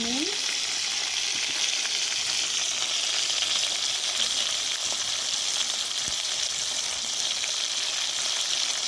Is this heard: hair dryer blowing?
no